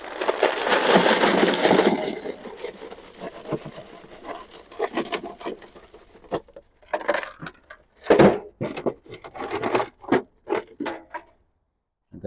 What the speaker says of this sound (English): I'm gonna go ahead and dump some more ice in there.